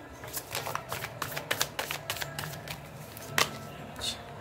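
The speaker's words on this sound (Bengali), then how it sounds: "এতগুলো কার্ড বার করলাম।" Tarot cards drawn and handled by a reader, a run of crisp, close, irregular flicks and snaps with one sharper slap near the end, fairly quiet and with no talk over it.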